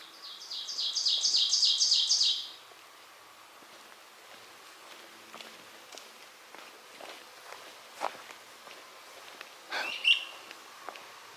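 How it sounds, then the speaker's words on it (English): A great crested flycatcher gives a quick, bright burst of rapid repeated notes near the start on the Appalachian Trail. Afterward, soft crunching footsteps and light clatter continue at close range. "The great crested flycatcher."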